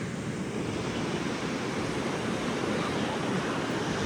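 Waves roll in steadily at Shrivardhan beach on the Maharashtra coast, a broad unbroken wash of surf with some wind over the microphone, loud and even with no voices.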